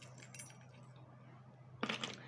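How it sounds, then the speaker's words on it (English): Keys jangle briefly inside a handbag pocket, a short metallic rattle near the end after quiet rustling, close and faint. "And what else do I have in this pocket? I also have my keys."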